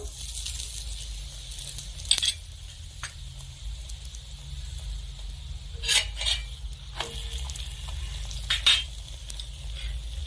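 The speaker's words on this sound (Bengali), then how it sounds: "পরোটার এক পিঠ ভেজে নিয়েছি, অপর পিঠ উল্টে নেব।" Paratha frying on a tawa in refined oil gives a steady low sizzle, broken by a few brief clinks and scrapes of a spatula pressing and turning it. No one speaks.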